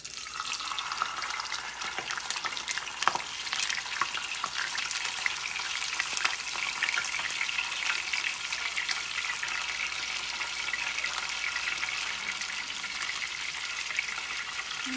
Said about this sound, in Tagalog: magprito na po tayo ng isda, no? Unahin natin si galunggong.